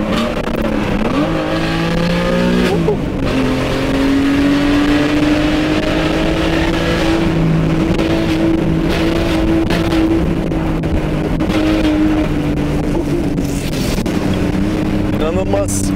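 Alfa Romeo GT 3.2 V6 Busso engine with the exhaust cutout open ahead of the final silencer, driven toward a tunnel. It gives a loud, sustained raspy exhaust note that climbs and holds steady, close to the listener, with a brief dip early on.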